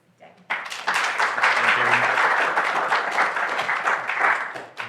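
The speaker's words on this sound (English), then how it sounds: "So big round of applause for Dean." An audience applauds a speaker at a conference, with dense clapping that starts abruptly and stays loud and steady for several seconds, and a voice briefly audible over it.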